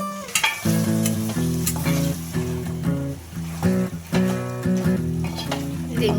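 Mutton goes into a pan of fried onions for a hotel-style mutton curry and sizzles loudly and continuously, with stirring scrapes and a steady frying hiss throughout.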